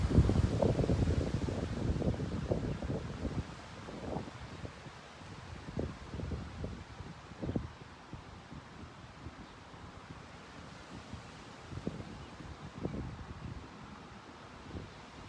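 Wind gusts blowing outdoors in a park, strong rumbling buffets against the microphone early on that ease into softer, intermittent gusts over a quiet rushing background, with no talk.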